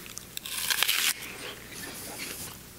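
A single crisp bite into a crunchy Honeycrisp apple, a sharp close crunch followed by a brief tearing snap, then quiet chewing.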